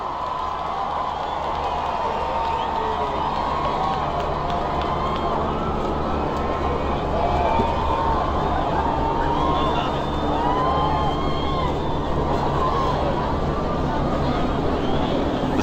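A large crowd cheers a royal balcony kiss in London, a sustained roar of voices and cheering spread wide and steady, with whistles and shouts rising above it and a commentator talking over it.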